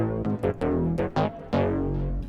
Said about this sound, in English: The first sound that I started off with was this